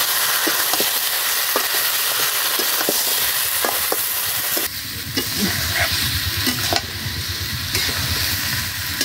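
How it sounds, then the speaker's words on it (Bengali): Chicken seasoned with salt and turmeric sizzles in a pan while a spoon stirs it, scraping in irregular strokes over steady frying hiss, with a louder burst of sizzling partway through; no talking. "পরিমাণ মতো লবণ, হলুদ, এবার আমি নাড়িয়ে চালিয়ে একসঙ্গে সুন্দর করে কষিয়ে নেব।"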